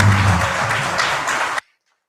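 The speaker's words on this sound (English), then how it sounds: "let's give these guys a round of applause" Audience applause at a county election debate, a dense burst of clapping lasting about a second and a half before cutting off abruptly into silence.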